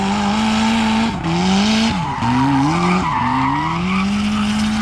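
A Nissan S13 with new control arms, wheel bearings and brakes spins donuts while street drifting, its engine droning loud and near as tires squeal and skid in long, wavering sweeps.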